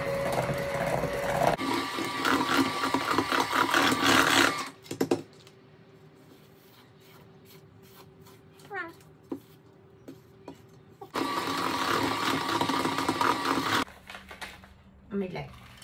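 Coconut cake batter is beaten with an electric mixer while the bowl sides are scraped down: two loud, steady motor-whirring stretches with a quieter gap of scraping and clinks between them.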